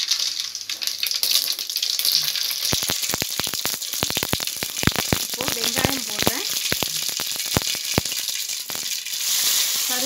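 Mustard seeds splutter in hot oil for a Sankara fish curry, rapid sharp pops and crackles bursting over a continuous loud sizzle, thick in the middle and thinning toward the end.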